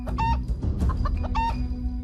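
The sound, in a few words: rooster clucking in a cartoon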